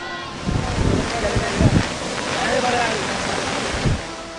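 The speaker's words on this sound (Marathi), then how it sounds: "याच पाण्यामुळे धरणाजवळच्या धबधब्यांमध्ये नवा जीव आलेला आहे" Monsoon waterfalls near the overflowing Bhandardara dam send up a steady, broad roar of rushing water that holds at a constant level for the whole stretch, with slight surges in the middle.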